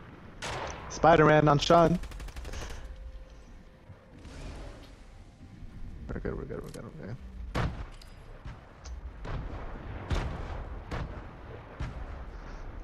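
Bursts of gunfire in a squad video game, sharp shots and brief rapid volleys scattered through the stretch, with players talking over the action.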